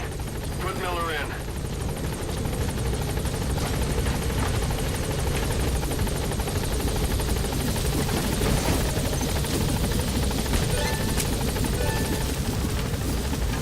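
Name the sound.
helicopter in a video game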